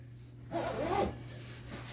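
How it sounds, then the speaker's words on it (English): A zipper on a Western Mountaineering Badger GWS down sleeping bag with delicate outer fabric is drawn open once, a short close zip lasting about half a second, followed by faint rustling. "I'll unzip the bag about a foot or so"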